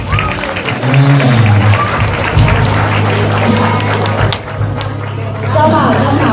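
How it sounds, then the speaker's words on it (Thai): Guests at a Thai wedding lunch reception applaud in a broad, steady patter of clapping while a host speaks over the crowd through a sound system. "ขอเสียงปรบมืออีกครั้งนะฮะ"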